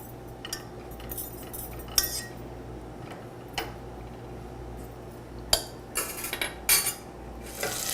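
A metal spoon stirring melting butter in a pan, scattered clinks and scrapes at irregular intervals over a low steady hum, clearer and busier toward the end.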